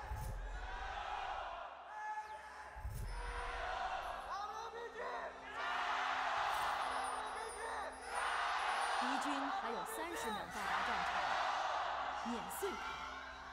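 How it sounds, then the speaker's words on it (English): A large esports arena crowd at a League of Legends playoff match cheers and roars battle cries in waves, with shouts and whoops rising together, over loud amplified talking. "the battle cries of both teams sounding up from the fans in the audience"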